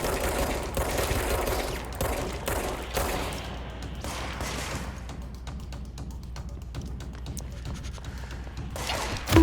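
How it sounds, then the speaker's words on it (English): Gunfire in the video game Control, a dense stretch of heavy shots and thuds at first that thins to scattered sharper cracks and clicks, fairly loud with no talk over it. "more shooting. Two shots."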